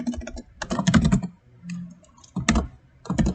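Typing on a computer keyboard in short bursts of rapid clicking keystrokes, separated by brief pauses, close and clear with no talking.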